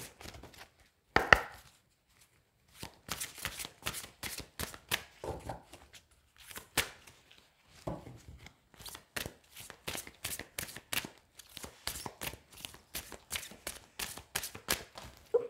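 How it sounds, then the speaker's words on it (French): A unicorn oracle card deck is shuffled and drawn by hand, making quick bursts of crisp, close riffling and slapping clicks separated by short pauses, with no talking. "je tire une dernière carte avec l'oracle des licornes"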